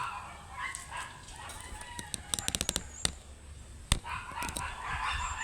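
Chickens cluck and call intermittently outdoors, with a quick burst of sharp clicks and a louder knock partway through over steady background noise.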